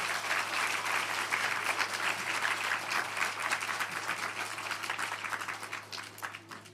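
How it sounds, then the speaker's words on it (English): Audience applause at a children's book awards ceremony: steady, dense clapping from a seated crowd, somewhat distant and moderate in level, sustained for several seconds before thinning slightly. "So, a round of applause again for the Dictionary story"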